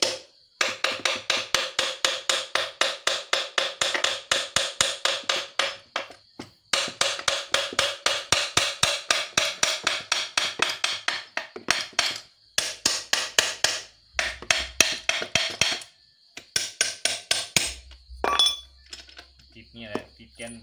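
Rapid, repeated hammer blows strike the locking-rod brake parts of a four-speed Tena motorcycle, metallic clinks ringing in long fast bursts with brief pauses between runs.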